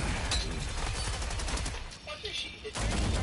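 Shotgun blasts and rapid gunfire in a shooter video game, loud and close, a dense burst that thins into scattered shots and game effects before firing resumes at the end.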